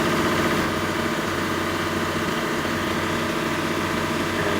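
A rebuilt Perkins 1103-A diesel engine on a 43 kVA generator set runs steadily at idle, a loud, constant low droning rumble with even vibration and no talk.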